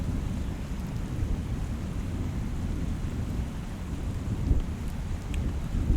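Strong wind roars outdoors at Elbow Falls, a steady, loud rumbling buffet against the microphone with gusts that swell slightly, and no voices.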